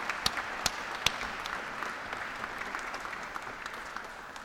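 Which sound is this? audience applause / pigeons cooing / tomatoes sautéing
audience applause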